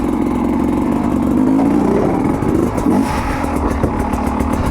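Sherco 250 SE carbureted factory dirt bike engine running loud and close in first gear, a steady buzzing drone that rises and falls slightly in pitch as the rider works the throttle.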